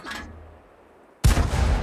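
A Type 64 tank's main gun fires in a video game as a sudden loud boom with a dense rumbling tail, following a short burst of fainter game noise and near-quiet.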